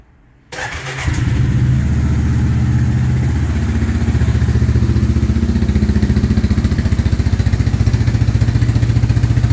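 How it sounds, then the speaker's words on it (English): A 1999 Suzuki Quadrunner ATV engine, choke on, cranks and catches about half a second in, then settles into a loud, steady, throbbing idle close by. "I'm gonna fire it up here and give it a test ride. I'm gonna do a quick start up here."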